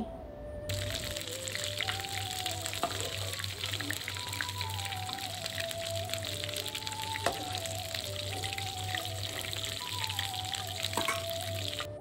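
Cauliflower florets fry in hot oil in a pan, a steady soft sizzle with light clinks and stirring scrapes as pieces are lifted out, while a voice speaks over it.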